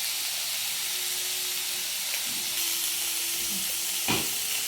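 Green chillies fry in a pan with salt, giving a steady close hissing sizzle that holds evenly, with a brief louder crackle near the end and no talking.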